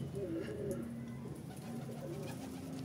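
Perched pigeons coo softly in low, repeated rolling notes, heard faintly at a moderate distance against a quiet background hum.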